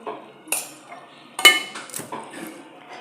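Mixed-fruit halwa sweetened with sugar or country jaggery being stirred in a cooking pot. A utensil scrapes and clinks sharply against the metal a few times, close up, with a faint voice in the background.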